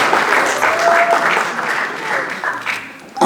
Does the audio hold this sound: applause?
yes